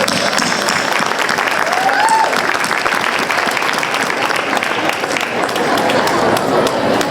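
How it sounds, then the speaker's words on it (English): Audience applause at a Lunar New Year celebration opening ceremony: a loud, dense wash of clapping from a large crowd, sustained evenly for the whole stretch. "give a big round of applause"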